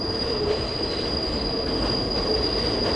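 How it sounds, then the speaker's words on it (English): NYC subway 7 train passing on an elevated curve, wheels squealing in a sustained high-pitched screech over steady rolling rumble, close and loud, no talk. "So it's actually the 7 train that's passing right here."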